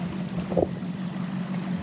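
Strong wind during a wind advisory on a lake buffets the microphone with a low steady rumble and roar, close and unbroken throughout the short stretch.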